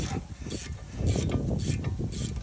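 A ratchet wrench with a 17 mm socket works a torqued brake caliper bolt, giving close, quick clicking and grinding ratchet strokes in short bursts, moderately loud, with no voices.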